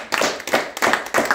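A church congregation claps in applause during a French-language worship service, four quick bursts of hand claps over about a second and a half, close and fairly loud, with no voices.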